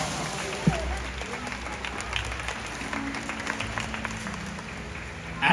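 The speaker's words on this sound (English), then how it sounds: "Let's give these whales and all of you a big round of applause." Audience applause at a SeaWorld killer whale show, with crowd noise: sustained, broad clapping from a large outdoor crowd, with one sharp knock near the start and a louder swell at the end.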